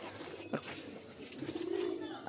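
Pet pigeons in a loft, an active breeding pair, coo softly with a low rolling call near the end, faint and close, accompanied by a brief flutter.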